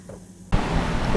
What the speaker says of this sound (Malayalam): ഇനി നമുക്കിതിനെ ഒന്ന് മറിച്ചിട്ട് കൂടി വറുത്തെടുക്കാം.